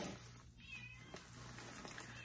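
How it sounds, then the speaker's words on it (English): A house cat meows indoors, a faint, drawn-out call standing alone against a quiet room background. "Ignore my cat."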